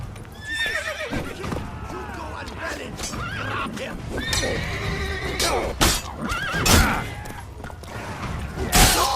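Horses whinny and neigh several times over a busy mix of hoofbeats, creaks and mechanical clatter, with voices talking underneath, in The Witcher 3: Blood and Wine.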